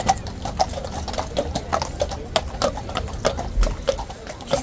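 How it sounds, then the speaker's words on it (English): Four guard horses walking past a large crowd at Horse Guards, hooves clip-clopping in a steady, even rhythm at moderate distance over a busy background murmur. "that's the 4 horses we saw during the guard change, the regimental handover this morning"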